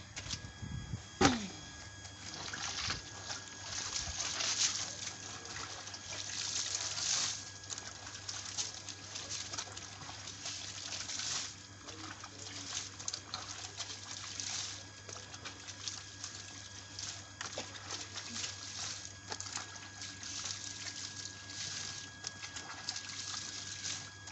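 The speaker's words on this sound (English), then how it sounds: "This clean water, I want to rinse them now." Laundry is rinsed by hand in clean water, giving intermittent sloshing, splashing and trickling over a long stretch with a faint background hum.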